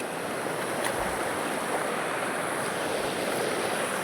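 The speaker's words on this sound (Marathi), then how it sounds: "बघा आमची नदी." A river near Madgaon flows in a steady, dense wash of water noise that stays even and close for the whole stretch, with no voices.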